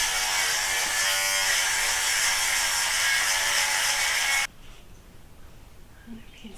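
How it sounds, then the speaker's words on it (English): An electric sweater shaver buzzing steadily at close range as it removes pilling from fabric, then stopping abruptly and leaving quiet room noise. "I'm gonna go ahead and do a little sweater shaving because I see some"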